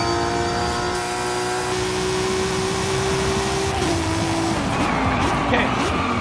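An Audi RS 5 in the Forza Horizon 5 racing game, its engine droning steadily with a high whine while tires squeal and skid, loud and continuous throughout.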